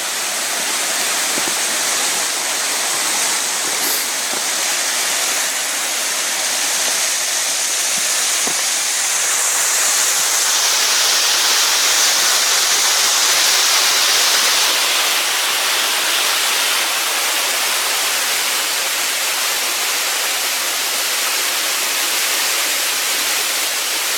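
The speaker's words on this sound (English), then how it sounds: "So there is a creek, obviously, on this one and the next one." A creek flows steadily beneath a railway trestle on a rural line, a continuous loud broadband rush of water with no pauses and no voices.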